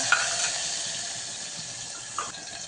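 Tomatoes and curry leaves sautéing in a pan, a continuous bright hiss and sizzle with a couple of brief stirring clicks, close and fairly loud.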